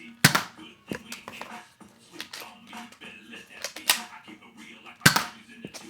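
A toy Nerf foam dart blaster is cocked and fired several times during a family Nerf war at home, giving sharp clicks and snapping pops spread through the clip, with brief voices between them.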